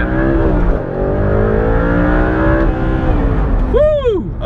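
An Audi R8 with a V8 engine revs hard and loud close by, rising and falling in pitch, then gives a final sharp rev with a swooping rise and drop near the end.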